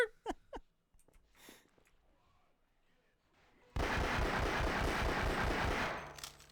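Gunfire in Half-Life: Source comes as one loud, sustained automatic burst that cuts in abruptly after a few quiet seconds with faint sounds, then runs on for several seconds.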